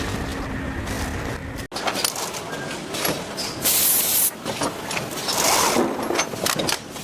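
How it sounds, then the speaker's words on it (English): An automated flyer winding machine wraps copper coil onto electric motor rotors, giving a whirring mechanical hiss with sharp spraying bursts and clicks, loud and close amid steady factory background noise. "This automated flyer winding machine precisely wraps copper coils onto electric motor rotors"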